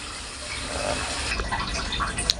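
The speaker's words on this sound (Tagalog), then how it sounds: "Hugasan natin kasi maalat to" Running water splashes over salty snails (kuhol) being rinsed in a kitchen before cooking, a steady close gush with small clinks and sloshes.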